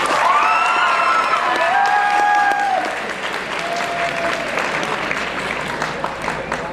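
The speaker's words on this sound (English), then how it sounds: "All of you who were born after 1959, please applaud." A packed convention auditorium breaks into sustained applause with a few shouts and whistles riding over it early on, the clapping staying full and even throughout before easing a little near the end.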